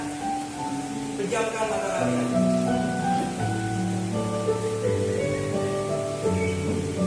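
Steady rainfall hisses softly behind calm, sustained instrumental music, with a voice speaking gently over both near the start.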